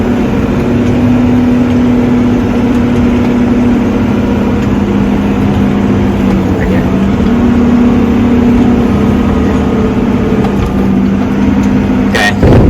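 A tractor pulling a lifted front press uphill through a steep field in low gear, its engine a loud, steady drone with a constant tonal hum and wheel slip, running without a break and with no talk.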